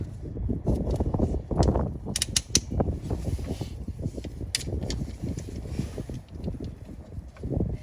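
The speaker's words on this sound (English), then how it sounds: "Take our hose clamps, clamp these off." Hose clamps clamp onto the coolant hoses of a Tesla Model S with creaking, ratcheting mechanical clicks and handling noises, close and fairly steady, with a few sharper snaps.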